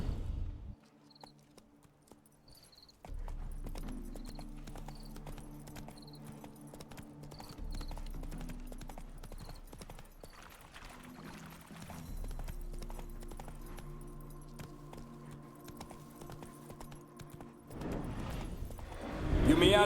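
Horse hooves clip-clopping at a steady walking rhythm in The Witcher 3 video game, moderately near and continuous, with a brief whinny and game ambience; no speech.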